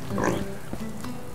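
A wild pig in the medieval farming game Medieval Dynasty gives a few low, close grunts, alone with no talk over them.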